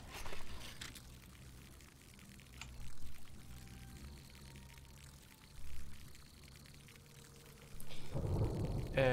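Rain falls in the survival game Smalland: Survive the Wilds as a steady, moderate wash of noise with swelling gusts, and a louder burst near the end.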